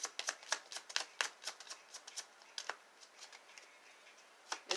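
A Kipper oracle card deck being shuffled close up, rapid crisp riffling snaps and flicks in quick irregular bursts, quiet overall with no talking.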